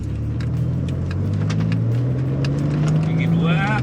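Mitsubishi Pajero Evolution engine droning from inside the cabin as the driver drops down to first gear, a low steady hum whose pitch climbs gradually, with someone talking over it.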